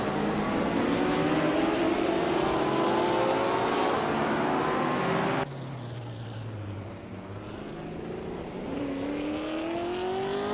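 A 1965 Honda RA272 race car in a racing video game screams loudly at high revs, its pitch climbing steadily, dropping sharply on a gear change, then rising again.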